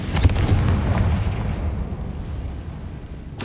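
A Confringo fire spell explodes in the Hogwarts Legacy video game, a loud booming blast with a burst at the start, then a rumbling tail that fades slowly over a few seconds.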